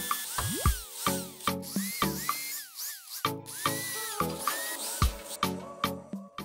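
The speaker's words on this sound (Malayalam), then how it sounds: "ഇതിൽ കാണുന്ന പോലെ ഡ്രിൽ ചെയ്ത് ഹോളൊക്കെ ഇട്ട് എടുത്തിട്ടുണ്ട് കേട്ടോ" An electric drill bores holes in sheet metal for a homemade bird cage, its motor whining up and down in short, repeated bursts with brief pauses between them, close to the microphone.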